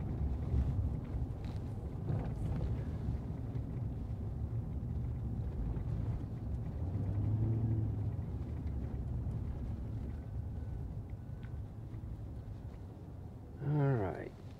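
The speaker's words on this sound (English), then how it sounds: "Traffic." Steady low rumble of city street traffic with wind noise on the microphone, vehicles droning nearby, a brief louder pass near the end.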